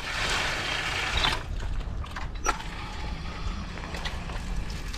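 Water gushing steadily from an open campground spigot, a continuous broadband rush with no pauses and no talk, close and fairly loud.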